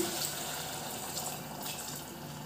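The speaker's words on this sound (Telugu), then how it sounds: "ఇప్పుడు వాటర్ పోద్దాం" Water pours into a pressure cooker in a steady, continuous rush, a close, even splashing stream with no voices.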